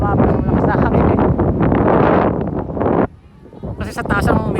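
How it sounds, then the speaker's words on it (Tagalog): Strong outdoor wind buffets the microphone while a small kite is flown, a loud continuous roaring rumble that briefly drops off near the end before surging back. "lumabas ang lakas na hangin eh"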